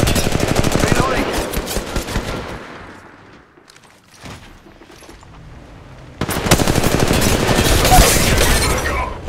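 Loud, rapid automatic gunfire from the mobile shooter Apex Legends Mobile rattles in dense bursts, fades to a quiet lull with a few scattered shots, then resumes at full intensity.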